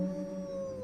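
A dog howls in the video game Ring: The Legend of the Nibelungen, a single sustained, steady wail that is loud and close, with no speech over it.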